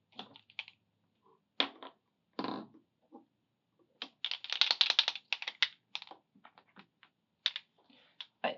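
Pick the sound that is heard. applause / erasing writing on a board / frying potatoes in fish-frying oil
erasing writing on a board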